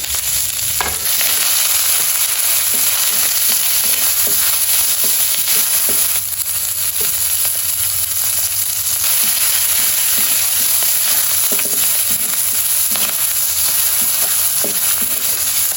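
Chopped green chillies, onion and garlic frying in a pan for an iftar dish, a loud continuous sizzle with occasional scraping stirs and crackles running throughout.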